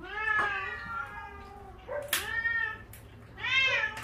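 Cat meowing repeatedly while being fed fish in a shelter, several drawn-out meows at close range with short pauses between them.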